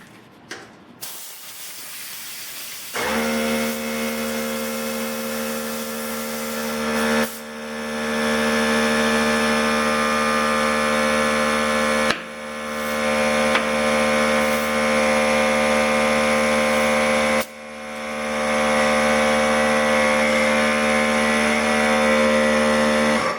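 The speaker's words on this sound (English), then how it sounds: "the air compressor out here going" An air compressor runs loud and steady while a tubeless tire is seated on a DIY conversion, its droning hiss broken by a few brief pauses and level shifts.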